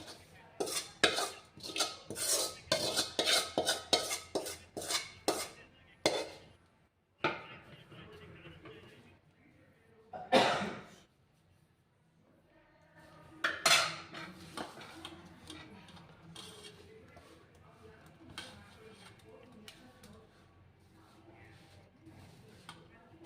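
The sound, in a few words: mixing tempering into flour dough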